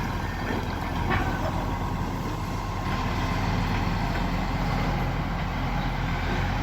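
A large delivery truck idles nearby after dropping off a JCB-type digger, a steady low diesel rumble that holds throughout with no talk over it.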